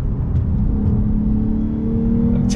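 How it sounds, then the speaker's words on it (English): A 2021 Lexus IS350 F Sport sedan accelerating on throttle along a twisty road, a steady rising engine drone heard from inside the cabin, loud and continuous with a rising pitch toward the end. "Do a little bit of on throttle acceleration. On throttle, here we go."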